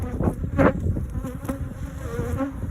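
Honey bees buzz steadily around an open hive with brood and capped honey frames, a dense close droning hum with individual insects swelling past, no voices.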